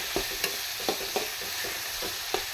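Chopped tomatoes sautéing in a pan for a karamani curry, with a continuous sizzling hiss broken by spaced spatula knocks and scrapes about every half second, close and steady without speech.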